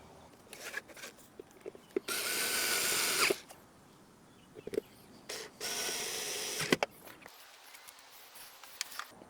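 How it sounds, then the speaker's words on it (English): A power driver drives two screws back into the brake light assembly of a Honda Odyssey, producing two sustained whirring bursts, each about a second long, separated by quieter clicks and handling noises, close by with no talking. "so we can go ahead and put our 2 screws back in."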